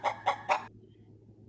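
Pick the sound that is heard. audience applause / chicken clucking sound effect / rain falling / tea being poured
chicken clucking sound effect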